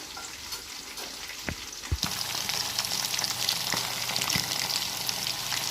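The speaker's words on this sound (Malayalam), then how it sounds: "ചിക്കൻ അങ്ങനെ കിടന്ന് അവിടെ പൊരിഞ്ഞ് അതവിടെ മുരിഞ്ഞ് പൊരിയാണ്" Chicken pieces frying in a pan, a steady close crackling sizzle with occasional pops that swells louder partway through and keeps going without talk.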